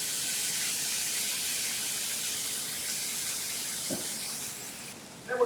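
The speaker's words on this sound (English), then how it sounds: "We're going to deglaze this pan with some white wine." White wine poured into a hot pan for a monkfish cacciatore sends up a steady, loud broadband sizzle and hiss that holds evenly throughout, with a small clink near the end.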